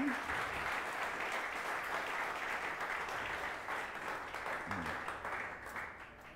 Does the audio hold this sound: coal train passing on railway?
no